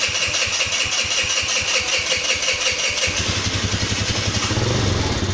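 A warm Peugeot V-Clic 50 scooter engine cranks with rapid rhythmic chugging, then catches and settles into a buzzing idle, loud and close-up.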